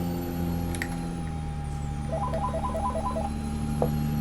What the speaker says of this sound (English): Oh goodness, there's the home phone.